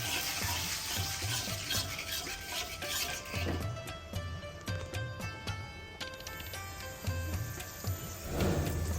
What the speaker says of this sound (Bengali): এখন একটু নাড়া দিয়ে নেই।